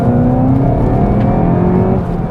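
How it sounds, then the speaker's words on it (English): A Seat Leon Cupra hatchback on the road, its engine droning loud and close from inside the cabin with a steady hum and a brief dip and shift in pitch as the gear changes, with no talking. "And the gear change, it's lovely."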